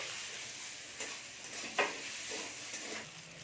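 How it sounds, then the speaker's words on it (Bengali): Ginger and garlic fry in oil with a soft, even sizzle, fairly quiet, punctuated by a few light stirring scrapes and one sharper clink. "আদাটার চেয়ে এটা একটু ভেজে নিচ্ছি"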